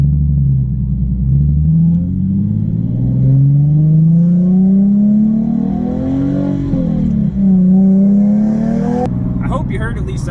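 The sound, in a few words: Nissan 370Z with GReddy Evo GT exhaust downshifting and revving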